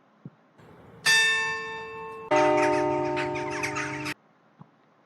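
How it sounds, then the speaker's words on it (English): Two struck bell tones from a sound effect library, the first ringing out with bright overtones and decaying, then a second louder, fuller strike sustaining about two seconds before cutting off abruptly, with a couple of faint clicks around it. "And the bell."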